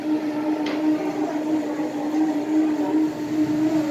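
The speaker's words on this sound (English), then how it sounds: "That background noise that you guys are hearing, that's Smoothie King. They're making me a smoothie right there." A blender whirs nearby at a Smoothie King, blending a smoothie with a steady, loud, continuous droning hum and a rough grinding texture that carries on without a break and has no speech over it.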